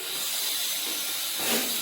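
Pot of rice cooking on a stove, giving off a steady close hiss of steam that swells briefly toward the end, with no talk.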